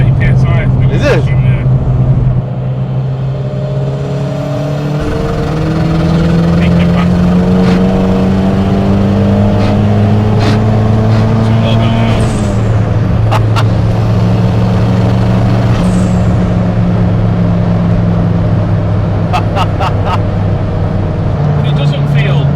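A Ford Sierra Cosworth with a touring-car spec turbo engine boosting near 30 psi pulls hard from inside the cabin, rising engine tones climbing through the gears with a brief shift dip, loud and sustained under occasional talk.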